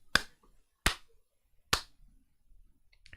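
Three sharp, well-spaced slaps from someone's hands ring out close and loud, about a second apart, with a faint rustle trailing after the last.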